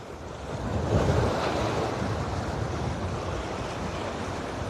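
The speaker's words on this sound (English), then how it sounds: "Nice waves." Ocean waves roll in and swell to a broad rushing surge, then ease into a lingering wash. There is no talking.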